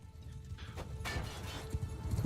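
Hooves of a small horse galloping in a video game set in Westeros, a steady clip-clop that runs close and fairly loud throughout with scattered thuds of combat around it.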